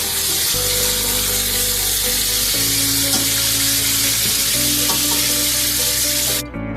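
Potatoes frying in a pot sizzle loudly and continuously as a little water is added to soften them, with a steady hiss that fills the whole stretch and cuts out abruptly at the end.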